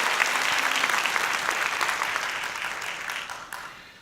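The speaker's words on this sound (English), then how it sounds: "So let's give another round of applause" Audience applause fills a Santa Monica State of the City 2018 civic event, a steady dense patter of many hands at moderate level that slowly thins and fades toward the end.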